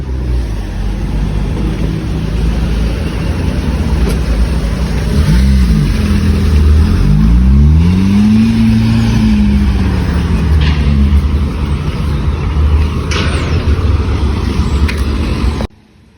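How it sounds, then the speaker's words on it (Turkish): A Fiat Fiorino van drives in close by, its engine rising and falling as it revs and manoeuvres, loud and steady for about fifteen seconds before cutting off abruptly. "İçeri al arabayı şuraya."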